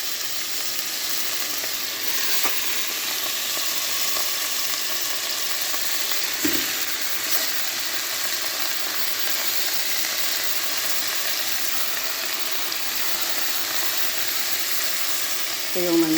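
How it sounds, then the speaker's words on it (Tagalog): Chicken pieces frying in a little cooking oil, a steady, even sizzle and crackle throughout with one brief clatter partway through, heard alone and close. "Lagyan mo ng mantika konti at saka iprito mo yung manok."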